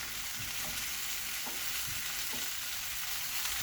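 Fish for Jamaican brown stew fish frying in a pan, giving a loud, continuous sizzle and hiss with faint occasional clinks, with no voices.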